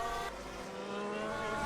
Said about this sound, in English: Just don't like the engine sound, that's all.